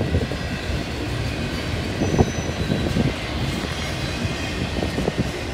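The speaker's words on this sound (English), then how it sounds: "Beautiful Valley of Swickley by looking at the Norfolk Southern train." A Norfolk Southern freight train rolls past in Pittsburgh, with a steady rumble of wagons, rhythmic wheel clatter and faint squealing, close and continuous throughout.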